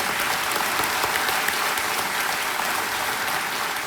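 Studio audience on a Hindi television quiz game show (Kaun Banega Crorepati, season 12) applauds a contestant in the hot seat, a dense, steady wash of many hands clapping that holds at an even loudness throughout.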